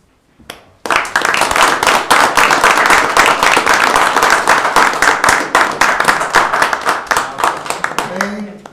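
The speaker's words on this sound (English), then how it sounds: "Everyone keeps clapping" A council meeting audience breaks into loud, close clapping after a brief quiet start, the claps dense and continuous for several seconds. A voice briefly emerges at the very end.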